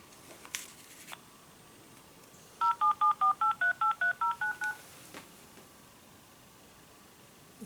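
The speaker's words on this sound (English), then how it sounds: "what I'm going to do now is ring my phone to see if my watch responds" A quick run of eleven telephone keypad tones dialing a call, evenly spaced beeps of shifting pitch, clear and close against a quiet background.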